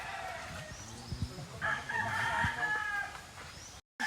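A rooster crows at a moderate distance in an outdoor setting in the Philippines, with chickens clucking softly and low rustling in the background.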